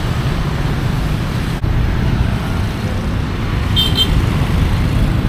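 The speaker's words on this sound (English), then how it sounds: "the traffic might seem confusing and chaotic to you" Street traffic in Saigon, Vietnam: a steady, loud roar of motorbikes and cars passing close by, with a brief thump partway through and a faint high horn toot near the end.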